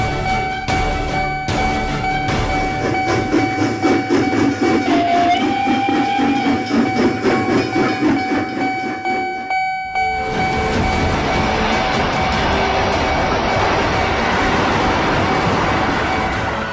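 A train runs along the rails into a busy station, its steady rumbling rhythm and tonal horn-like whines loud and close, then breaking into a brief pause before a broader hissing roar of the moving cars continues.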